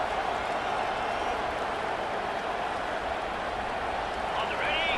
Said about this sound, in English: This crowd busting the decibel meter and trying to will a fourth down stop.